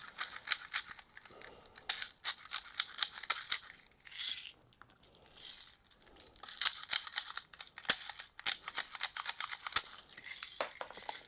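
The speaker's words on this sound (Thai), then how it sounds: "นี้คืออาการแก๊สหมดนะครับ" Double Bell M1911 mini gas BB pistol firing weakly as its gas runs out, giving a string of sharp dry clicks and snaps at irregular intervals with a brief pause, close and moderately loud.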